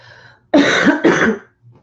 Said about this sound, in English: I still have this damn cough